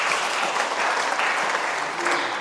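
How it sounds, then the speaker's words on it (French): A congregation at a Friday morning church service claps together in sustained, dense applause that stays steady from start to finish. The sound is close and full, with no voice standing out. "Applaudissons pour Jésus."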